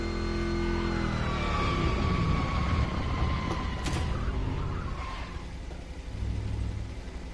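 An 8-speed car in a video game revs hard and climbs up through its gears, the engine note rising and dropping at each shift. The rumble stays loud and steady throughout, with no speech.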